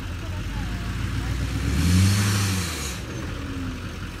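A Duramax or Cummins pickup truck revs and accelerates during a 4x4 test, the engine swelling to a loud mid-pitched roar and then easing off, with voices talking over it.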